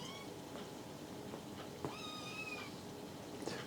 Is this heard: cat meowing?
yes